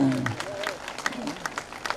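A crowd at a temple gathering claps in a brief burst of scattered hand claps, starting just as a voice trails off.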